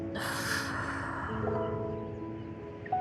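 A single deep breath drawn in through the nose during a yoga low lunge, close and breathy, starting sharply and then easing off into a long, softer fade.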